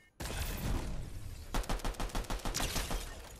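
Pistol fire in Fortnite: a dense burst of game gunfire, then a rapid run of sharp, evenly spaced shots, loud and close with no talk.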